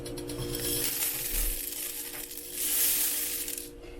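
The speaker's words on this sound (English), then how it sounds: "And stir in until fully coated." Rice Krispies cereal stirred into melted marshmallows in a pot, a soft crackling, scraping churn that swells and fades with the strokes, with no talk over it.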